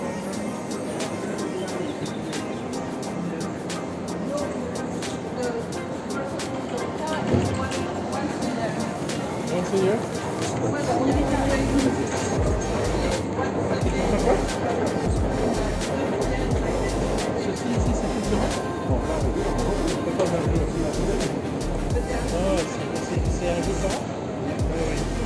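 Metro train ride from Charleroi toward Brussels: a steady rumbling of the carriage with low rolling and rattling that grows heavier after ten seconds, while people talk over it throughout.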